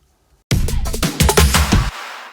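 A short electronic drum fill packed with layered hi-hats, shakers and tambourine for a dance track, bursting in loud and busy for about a second and a half before cutting off cleanly.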